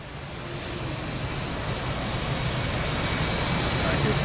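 Jet aircraft lining up for takeoff on an aircraft carrier deck in the flight sim DCS World, a steady broadband engine roar that slowly swells in loudness, with faint voices underneath.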